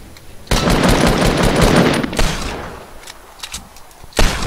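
Gunfire in Fortnite Battle Royale, a loud sustained automatic burst that cuts off, then a few scattered shots and a final sharp crack, with no talk over it.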